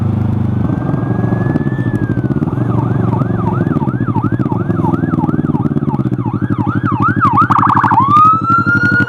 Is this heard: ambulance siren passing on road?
yes